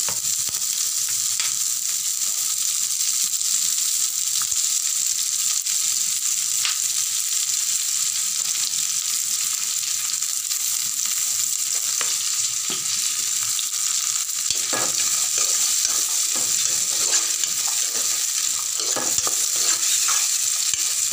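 A bay leaf fries in plenty of hot oil for a rajma chawal dish, giving a loud, continuous close sizzle with occasional crackles and faint stirring.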